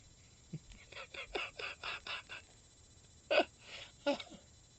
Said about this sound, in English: She literally sneezed.